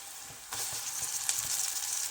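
Tomatoes hit hot oil over onions already fried for a yellow pea usal, and a steady sizzle jumps louder after half a second, then crackles on continuously at close range.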